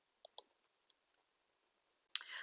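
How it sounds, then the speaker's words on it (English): Several quiet, sharp mouse clicks on an OK button in payroll software, spaced irregularly with near-silence between them and a quick double click near the end. "and we click OK"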